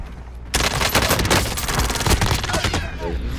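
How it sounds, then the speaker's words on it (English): Machine-gun fire rakes a helicopter in the Warzone battle royale game, a loud, close burst of rapid shots starting abruptly and rattling on for a few seconds before tapering off. "They're like shooting my helicopter up."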